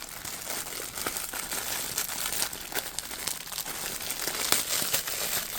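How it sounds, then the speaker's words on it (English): Hands rummage through a plastic bag of lace and trims, crinkling and rustling continuously close to the microphone with scattered sharper crackles, no voices. "Sorry for all the ruffling"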